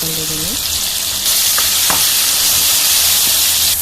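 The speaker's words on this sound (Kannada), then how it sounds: "ಇವಾಗ ಗೋಲ್ಡನ್ ಬ್ರೌನ್ ಬರೋ ತನಕ ಚೆನ್ನಾಗಿ ಫ್ರೈ ಮಾಡ್ಕೊಳ್ಳೋಣ ಈರುಳ್ಳಿ ಫ್ರೈ ಆದಮೇಲೆ ಟೊಮೊಟೊನ ಆ್ಯಡ್ ಮಾಡ್ಕೊತ ಇದ್ದೀನಿ" Onions and tomato sizzle and fry in a pan as a steady, loud hiss, with a few brief stirring clinks and a faint low hum beneath.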